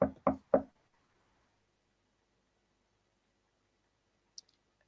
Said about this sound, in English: She will hear a knock on the door.